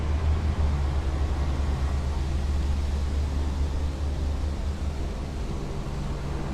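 Cars passing on a road outside, a steady low rumbling traffic wash with no distinct individual pass-bys, heard from a distance under a breezy outdoor ambience.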